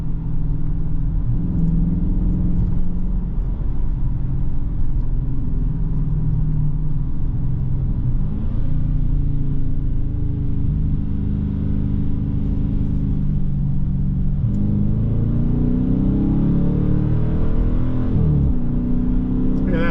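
A 2023 Dodge Challenger R/T with the T/A Package on the move, its engine a loud, steady low rumble from inside the cabin with slight swells in pitch as it pulls through long gears.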